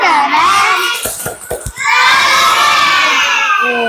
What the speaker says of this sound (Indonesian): Tepuk aplaus untuk kelompok 1